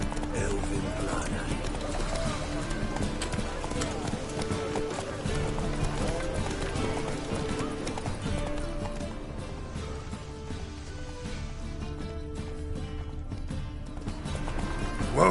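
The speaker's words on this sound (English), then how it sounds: "Whoa there, Roach." A horse gallops across open ground in a video game, a steady drumming of hoofbeats mixed with game sound and background ambience running throughout.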